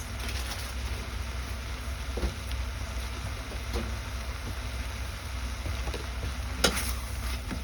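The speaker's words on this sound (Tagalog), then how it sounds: "Haluin natin para pantay yung luto ng chicken" Chicken pieces are stirred in a pot of sotanghon soup, with a few soft utensil scrapes and knocks over a steady, low simmering hiss and no talking.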